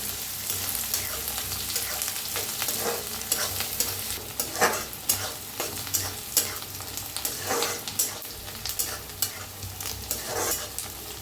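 Chopped tomato roasts in a hot pan with onion and curry leaves, a soft continuous sizzle punctuated by periodic scraping and stirring strokes of a spoon, close up, with no talking.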